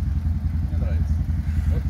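The exhaust of an ODES 1000 utility vehicle rumbles steadily at idle with a deep, pulsing throb, close by and running on while someone talks over it.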